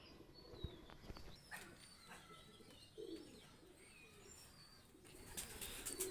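A pair of white Commando pigeons coo softly and repeatedly nearby, with other bird chirps and light background noise around them and no talking.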